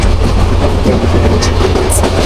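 A moving train in Bangladesh, heard from on board, gives a loud steady rumble with rattling wheel clatter and occasional faint high squeaks.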